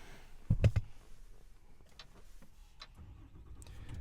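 A Ram Cummins diesel pickup engine starting up, a brief loud cranking burst followed by a low, quiet rumbling idle.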